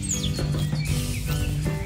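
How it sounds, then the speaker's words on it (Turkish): Songbirds chirp and trill in a home garden where food is cooked over a wood fire, thin calls repeating over a steady low rumble that fills the background. "Şahane ötücü kuşlar var burada."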